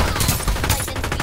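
Sustained automatic gunfire in the battle royale shooter Farlight 84, a loud, close, rapid stream of shots with faint game effects mixed in and no talking.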